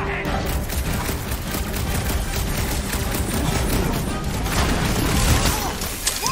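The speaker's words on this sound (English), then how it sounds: "Just don't stop shooting!" Continuous loud gunfire in Marvel's Guardians of the Galaxy video game, a dense rattling barrage with crashing impacts mixed in, while voices talk over the fighting.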